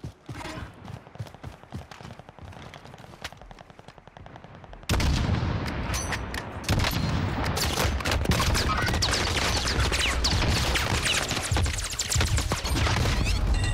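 Sustained gunfire in the shooter game Warzone 2022, with sparse shots and quieter activity at first, then a loud, dense burst of automatic fire and explosions that continues without a break.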